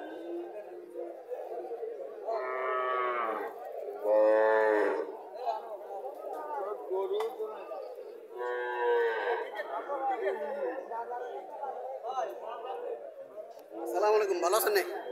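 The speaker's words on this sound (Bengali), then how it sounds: "আরও একটা গাভী দেখা যাচ্ছে" A local desi cow moos several times at a village cattle market in Comilla, with long drawn-out calls rising above steady crowd chatter and people talking nearby.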